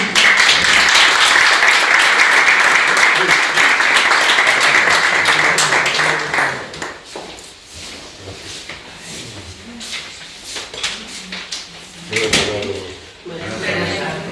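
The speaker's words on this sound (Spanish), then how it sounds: "Un aplauso, muchas gracias." Audience at a Spanish poetry reading event claps in a loud, dense burst for about six seconds, then the applause thins out into scattered claps under people talking nearby.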